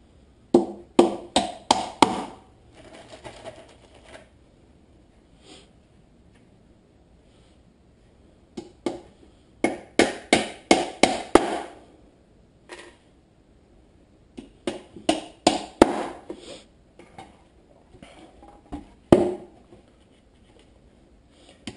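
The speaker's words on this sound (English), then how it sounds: "Now I've got my normal hammer out. I just hammer those in like so." A hammer drives nails into a wooden Brushy Mountain Bee Farm beehive box, sounding as close, sharp knocks in quick bursts of five to seven blows, with short pauses between groups and no talk.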